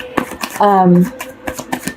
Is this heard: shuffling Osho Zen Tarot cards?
yes